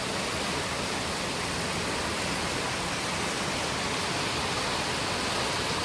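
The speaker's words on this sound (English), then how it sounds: "It's raining pretty good." Heavy rain pours outside a home as a constant, dense hiss of falling water, steady and fairly soft throughout with no talking.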